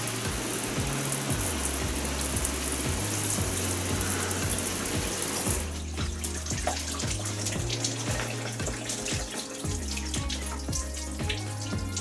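A hose sprays water onto glass treated with sealant, making a steady close rushing splash, while a low engine drone hums underneath the whole time.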